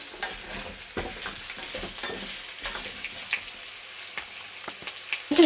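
Tomatoes, carrots and onions sauté in a pan with a low, continuous sizzle, while a utensil scrapes and taps against the pan in irregular strokes, close and moderately quiet.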